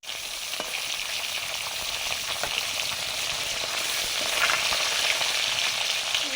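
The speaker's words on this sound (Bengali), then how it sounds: "মাছ ভেজে নিচ্ছি।" Fish, freshly washed and rubbed with salt, sizzles steadily in hot oil in a pan, a close, continuous crackling fry with small pops and no voices.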